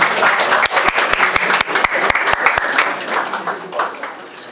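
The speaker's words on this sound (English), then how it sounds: "Let's welcome him with a big round of applause" A crowd at a youth leadership dialogue applauds to welcome a college president to the stage as a panelist, a dense wash of many hands with sharper individual claps standing out, loud and sustained before gradually thinning.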